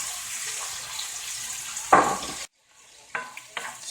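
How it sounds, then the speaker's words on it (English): Shrimp stirred in a hot pan, a hissing sizzle with a sharp scrape of the utensil, a brief gap of silence, then more scraping and clinks, no talking. "Stir all that good flavor in there together."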